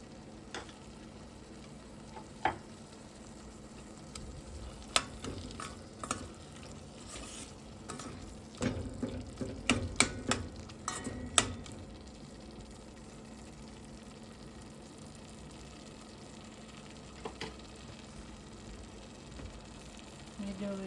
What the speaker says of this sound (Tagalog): Medyo gisa natin ng konti bago ilagay yung mga gulay.